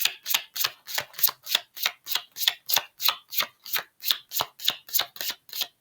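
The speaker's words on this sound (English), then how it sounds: "Shuffled the whole deck and not one flipped out." Tarot cards riffle and shuffle through a full deck in a steady run of about fifteen crisp, evenly spaced bursts, close and moderately loud, with no talking.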